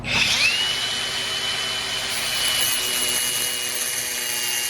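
A microwave oven fan motor being cut apart with a power tool, a loud, continuous high-pitched whine and grind that holds steady throughout, close by.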